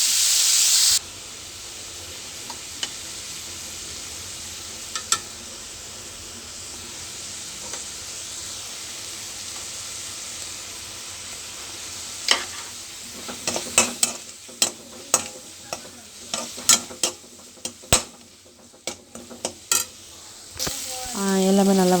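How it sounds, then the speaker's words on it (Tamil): Tomato and onion sauté in a pan with turmeric, salt and curry leaves for a liver thokku, a soft steady sizzle broken by scattered scraping stirs that grow busier toward the end. "தக்காளி வெங்காயம் சீக்கிரம் வதங்கிறதுக்கு மஞ்சத்தூள் ஒரு பிஞ்ச், 1/2 ஸ்பூன் சால்ட்டு மட்டும் சேர்த்து நல்லா வதக்கிக்கிறேன்"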